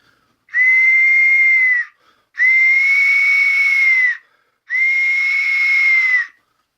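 A Murder of Crows death whistle is blown three times in long, piercing, screamy blasts, each lasting over a second with short silent gaps between them, loud and close.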